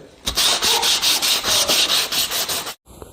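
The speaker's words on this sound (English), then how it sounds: "scrubbing with sandpaper and wire brushes and stuff like that" Motorcycle parts scrubbed with sandpaper and wire brushes, a loud, close, continuous rasping in rapid back-and-forth strokes that stops abruptly near the end.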